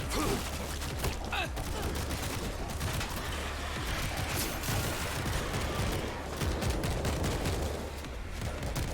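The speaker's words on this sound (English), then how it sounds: "Are you fucking shooting at me, dude?" Constant scattered gunfire in the Zambies shooter video game, a steady crackle of shots mixed with low rumbling noise, moderately faint and continuous.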